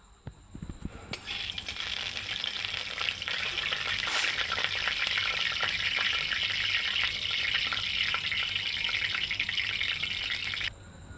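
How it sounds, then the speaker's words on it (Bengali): A catla fish head dropped into hot oil in a kadai sets off a sudden, loud, steady sizzle that runs close and even for about ten seconds, then cuts off; no one speaks. "প্রথমে মাথাটাকে ভেজে নেব যাতে মাছটা একটু না ধরে।"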